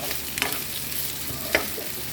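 Garlic and onions sauté in a pan for pork steak, a steady soft sizzle with a couple of light stirring clicks.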